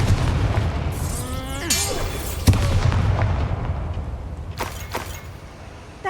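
Bombarda spell cast in the video game Hogwarts Legacy: a sharp magical blast with a sweeping whoosh and a bright crack, followed by rumbling debris and a few softer impacts fading out.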